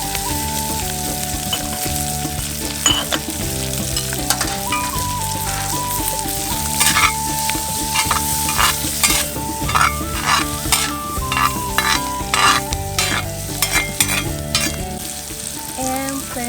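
Green onions stir-fry in a Lodge cast iron mini wok, making a loud, continuous close sizzle broken by repeated scraping strokes of the stirring utensil, over quiet background music.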